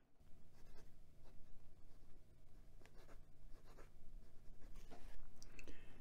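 Sheaffer Legacy 2 fountain pen with a medium 18k gold nib writing on Clairefontaine 90 gsm paper, a soft continuous scratching of nib on paper with small strokes and pauses, close and quiet, no talking.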